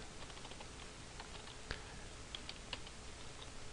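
Rapid keystrokes on a computer keyboard while writing code, soft and steady, with a few sharper clicks standing out over constant background hiss.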